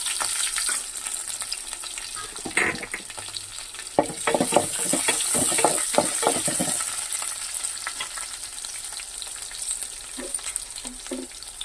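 Dried red chillies, green chillies and ginger pieces fry in hot oil for a puri curry, a loud and continuous sizzle with bursts of stirring and spoon scraping in the middle.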